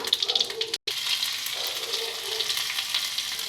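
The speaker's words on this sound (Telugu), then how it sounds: "పచ్చి జీలకర్ర కొంచెం వేసుకుందామండి." Raw cumin seeds sizzle in butter in a hot pan, a steady close crackling fry with a brief dropout and light stirring, with no talk over it.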